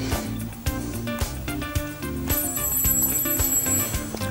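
A telephone rings loudly and close, its repeating melodic ring pattern running continuously for several seconds with no one speaking over it.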